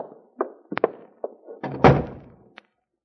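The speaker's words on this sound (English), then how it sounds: "Close that door, Grace." A door is closed in a vintage radio detective drama: several soft knocks and thunks lead up to one fuller thud, then a short sharp tap, all close and clear, with no talk over it.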